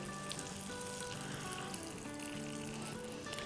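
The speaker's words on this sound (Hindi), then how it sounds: "अब ये तड़का डाल देंगे।" Tadka tempering sizzling as it hits a pot of dal: a steady, close crackling fry hiss that continues without a break.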